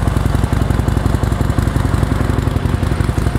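A Harley-Davidson Sportster 1200 air-cooled V-twin with factory exhaust idles steadily, a close, even, loping putter with regular pulses throughout.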